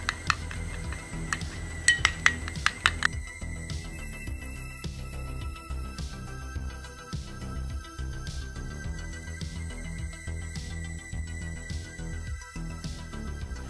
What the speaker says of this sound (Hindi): अब मैं इसको अच्छे तरीके से मिक्स करूंगी ताकि इसका एक खूबसूरत सा स्मूथ सा पेस्ट बन जाए